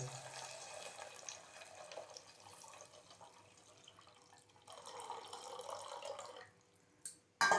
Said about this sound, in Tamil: இந்த புளி ஜலத்தை சேர்த்துடலாம் இதோட.